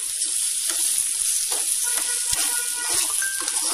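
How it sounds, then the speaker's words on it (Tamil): Steady, loud sizzling of egg and onion frying in a pan, with soft scraping strokes as the mixture is stirred and no talking. "இப்போ இதை அப்படியே கிளறலாம்."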